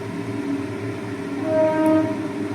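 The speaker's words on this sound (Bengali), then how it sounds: "ট্রেনটা এইখানে এসেই হর্ন দেয়" A loud, sustained train horn sounds over the rumble of a passing train, swelling midway and then holding steady.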